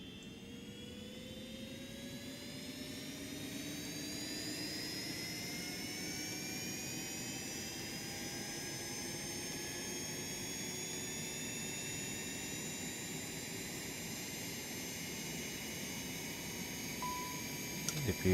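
A Citation X auxiliary power unit spooling up and running, a steady jet whine with rising tones sliding upward and a constant roar underneath, heard from the cockpit for the full stretch.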